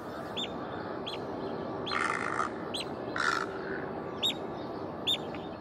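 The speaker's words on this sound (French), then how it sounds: "Ce petit coin de paradis pour les oiseaux sauvages" Wild birds at the Mbao lagoon near Dakar call repeatedly in short, sharp squawks and chirps. Two longer, harsher cries stand out over a steady outdoor hiss, and the birds sound moderately close.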